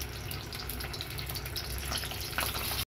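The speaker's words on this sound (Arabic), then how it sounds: "هجيب الطاسه اللي هعمل فيها السجق واحط فيها معلقه زيت كبيره وانزل بالسجق بتاعي بعد ما تسخن كده" Sausage frying in a large spoonful of hot oil in a pan, a steady soft crackle and sizzle heard up close with no talking.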